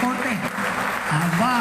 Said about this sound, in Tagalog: Isa pang palakpak dun.